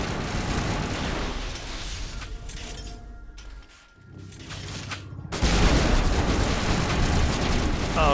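Enemy gunfire in Mass Effect on Insanity difficulty, dense rattling bursts and booming impacts that briefly thin out, then return louder and sustained.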